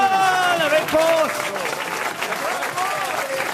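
A studio audience on a French radio panel show applauds a correct quiz answer, a dense steady wash of clapping with a few voices mixed in, loud and sustained throughout.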